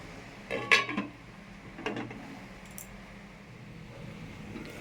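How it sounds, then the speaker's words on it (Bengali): Cookware clatters as a lid is set over a pot of koi fish bhapa: a couple of close metallic clinks and knocks, then quiet. "একটু জল দিয়ে গ্যাসের পাওয়ারটা কমিয়ে দিয়ে 20 মিনিটের মতো ঢাকা দিয়ে রাখবো"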